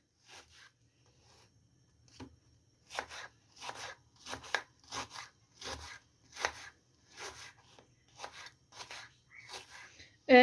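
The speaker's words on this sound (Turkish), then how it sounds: "Soğan bir tane fazla doğramayacağız." A knife chops an onion steadily on a cutting board, a dozen or so crisp, evenly spaced strikes, close up, with a low hum underneath.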